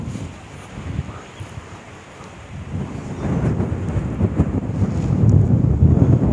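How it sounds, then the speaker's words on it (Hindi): Strong wind buffets the microphone in low, roaring gusts, building louder toward the end. "हवा काफ़ी तेज़ चल रही है यहाँ पे"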